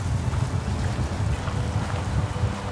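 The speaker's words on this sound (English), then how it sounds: "Besides wind, lots of wind." Strong gusty wind buffeting a catamaran at sea, a loud continuous low rumble of wind noise across the microphone with no talking.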